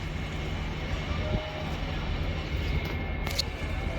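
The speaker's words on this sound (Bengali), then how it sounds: "ওই পাশে একটি খুলনার লোকাল ট্রেন ছেড়ে যাচ্ছে" A Khulna local train pulls out of Tangail railway station in the morning, its steady low rumble filling the air, heard from another train alongside, with a brief sharp squeal near the end.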